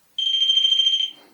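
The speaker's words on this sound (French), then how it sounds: "Si vous pouvez l'activer, il va biper." A pod ghost-hunting device gives one loud, steady electronic beep lasting about a second, close by, with no other sound around it.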